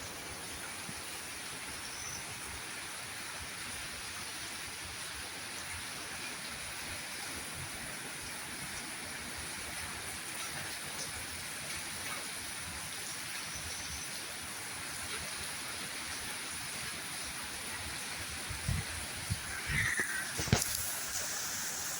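Continuous rushing wind and steady rain noise from a heavy storm, broadband and fairly quiet, with a few sharper gusts or rattles near the end.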